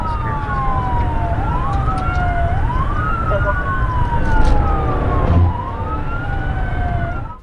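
Police car sirens wail up and down in long sweeping cycles during a high-speed pursuit, loud over steady road and engine rumble, with a brief thump partway through.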